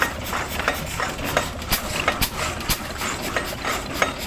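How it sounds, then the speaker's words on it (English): An old engine drives a saw at an Allegheny engineering show, chugging steadily outdoors with a regular mechanical knock and sharp clanks cutting through the close running noise. "I love the engine that's running it,"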